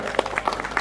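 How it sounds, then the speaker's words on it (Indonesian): Scattered audience applause at a literary festival session in Indonesia, a steady patter of clapping at moderate volume throughout the short moment. "Tepuk tangan dulu dong."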